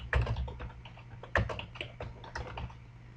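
Typing on a computer keyboard while renaming a match in quiz bowl setup software, quiet close keystrokes in uneven clusters with a low hum beneath.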